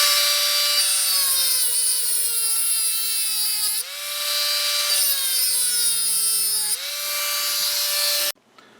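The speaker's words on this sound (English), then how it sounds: "take and cut with a Dremel tool the outer race" A Dremel rotary tool grinds through the steel outer race of a Ford F-150 rear differential bearing, a loud, steady high-pitched whine that dips twice as the cut bites, then cuts off abruptly at the end.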